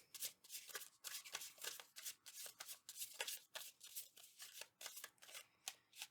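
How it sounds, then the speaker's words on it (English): A deck of tarot cards is pulled out and shuffled, producing quiet, close, rhythmic riffling bursts that repeat rapidly with brief pauses between them. "let's pull out your tarot cards"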